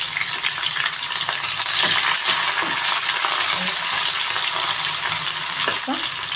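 Onions fry in hot oil with a loud, continuous sizzle and crackle, plus occasional soft stirring knocks, steady and close for the whole stretch.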